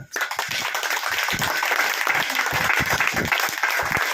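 A congregation at a prayer meeting claps steadily and loudly, dense overlapping hand claps filling the whole stretch with no pause.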